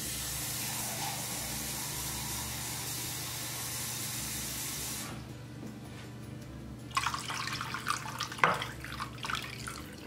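Tap water pours into a lasagna pan holding a chuck roast, a steady rushing hiss that stops briefly and then returns with splashier, uneven gushing as the pan fills.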